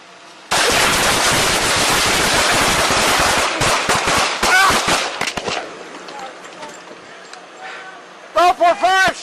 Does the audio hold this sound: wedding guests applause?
no